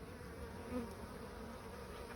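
Honey bees buzzing at a hive entrance, Buckfast or Irish Black colony, a soft steady hum of many insects close by with a brief louder pass midway.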